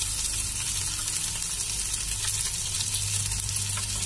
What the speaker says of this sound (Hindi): प्याज के लिए 1 से 2 मिनट के लिए हम भुनने देते हैं।